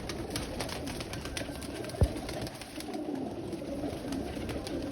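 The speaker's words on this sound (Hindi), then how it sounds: "बहुत ही अच्छे कबूतर।" Racing pigeons coo softly on a rooftop amid steady outdoor background noise, with a single sharp low thump partway through.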